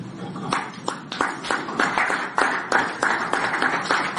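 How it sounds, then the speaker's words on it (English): A conference crowd in Abuja claps in scattered, uneven bursts, with rhythmic sharp claps rising and falling over several seconds amid faint background voices. "If you want to clap"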